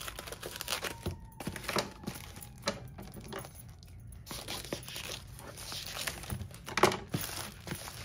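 Plastic packaging around a new pair of budget sunglasses crinkles and crunches as it is unwrapped, with close, steady rustling, a few sharper tearing snaps and a brief rattle near the end.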